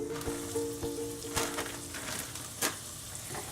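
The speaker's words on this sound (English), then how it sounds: "And we're going to let that saute for about 5 minutes, stirring it occasionally." Shredded carrots sautéing in a pot for black bean soup, a faint soft sizzle with a few brief stirring scrapes and taps, quiet and close, no talking.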